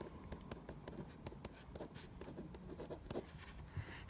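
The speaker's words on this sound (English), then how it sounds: "Let's write that down." Pen scratching out notes by hand, steady short strokes and taps close up, fairly quiet, with no talking.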